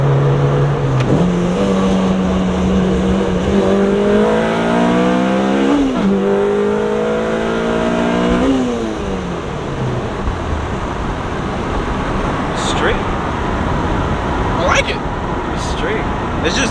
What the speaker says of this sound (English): It doesn't feel right to rev that high in this car.